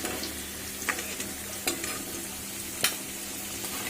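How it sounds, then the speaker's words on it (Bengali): Potatoes fry in a pan with salt and turmeric, a quiet continuous sizzle with a few sharp stirring scrapes and taps. "পরিমাণ মতো লবণ আর হলুদ দিয়ে ভেজে নেব, লাল লাল করে ভাজা ভাজা হতে দেব"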